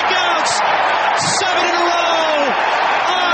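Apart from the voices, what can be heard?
Nationals Park baseball crowd cheering a strikeout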